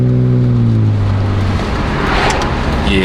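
A BMW E36 with bad alignment driving on the road, a steady loud engine and road roar with low engine tones that fade after the first second, continuous throughout.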